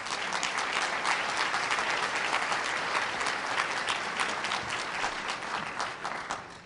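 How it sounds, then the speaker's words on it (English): A room of audience members applauding at a community event, loud, dense and continuous, tapering slightly toward the end. "Please give him a round of applause as well."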